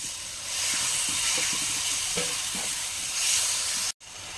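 Chili frying in a pan of oil while egg masala cooks, a steady close sizzling hiss with a few stirring scrapes, cut by a brief dropout near the end.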